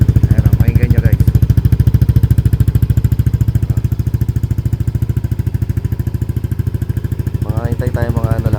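A Yamaha Aerox v2 scooter fitted with a Namban power pipe exhaust idles after a cold start, with a steady, loud, rapid putter running throughout. Brief voices are heard near the start and end.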